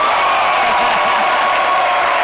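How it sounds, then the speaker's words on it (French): An audience claps during a live midday television broadcast in a loud, continuous burst of applause with a faint cheer mixed in. "Bon, applaudissez pour ceux qui sont dehors là-bas."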